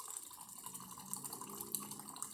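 A DeLonghi Magnifica XS espresso machine, after a full service, dispenses hot water in a steady, faint hissing, splashing stream without pause.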